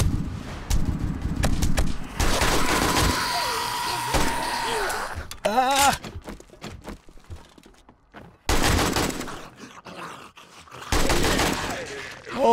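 Gunfire in the zombie survival game 7 Days to Die, with bursts of shots, thuds and loud bangs in several bunches separated by short quiet gaps, close and harsh.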